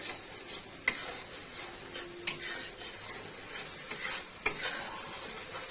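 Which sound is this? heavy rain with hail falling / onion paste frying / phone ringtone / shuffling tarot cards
onion paste frying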